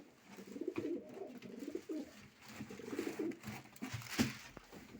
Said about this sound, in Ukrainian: Такий ось красний голубочок. Красивий.